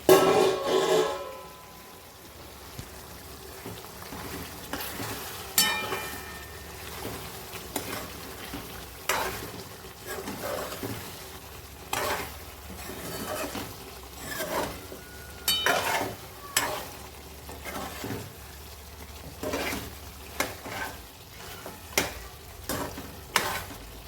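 A spatula stirs a mutton dish cooking in a pan, giving repeated scraping strokes at irregular intervals over a soft continuous sizzle, with no voices.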